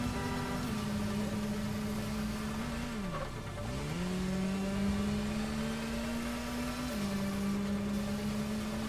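Motorbike engine held at full throttle in the video game Gotham Knights, a steady sustained drone that dips briefly in pitch midway before climbing back, loud and continuous with no talk.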